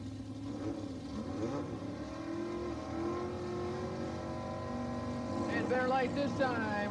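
Buick drag race cars launch down the strip, engines rising and revving as they pull away at moderate distance, with an announcer talking over the noise.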